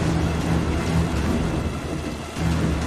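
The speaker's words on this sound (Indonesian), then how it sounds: "Cuaca lagi panas-panasnya tiba-tiba keganti jadi hujan" Steady rain pours throughout, with low rumbling that fits distant thunder, a continuous storm wash from start to end with no voices.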